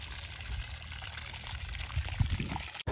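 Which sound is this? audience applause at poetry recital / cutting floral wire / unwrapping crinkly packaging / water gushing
water gushing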